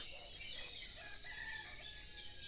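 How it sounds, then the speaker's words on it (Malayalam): A rooster crows faintly in the distance over a steady, hissing outdoor background with no talking. "കോഴി കൂകുന്നുണ്ട്"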